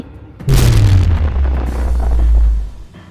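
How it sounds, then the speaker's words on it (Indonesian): A sudden loud blast followed by a deep, rumbling boom that sustains for a couple of seconds before cutting off, like a cinematic energy explosion. "Ledakan energi biru menyapu seluruh lapangan."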